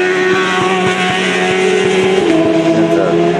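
A race car engine labors in a low gear while climbing a hill on a road course, a loud, steady, buzzing drone with a pulsing rhythm that rises slightly in pitch, close and continuous throughout.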